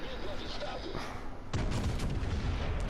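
Battleship secondary guns firing in World of Warships, heard as a steady rumble of booming artillery that swells louder partway through, with a voice talking over it.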